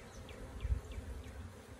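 Honeybees from a newly installed three-pound package buzz close by during a first hive inspection, a steady drone with a few bees whining past.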